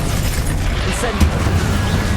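An Incendio fire spell cast in Hogwarts Legacy sends out a single short fiery burst midway, heard over steady game noise with a voice calling out.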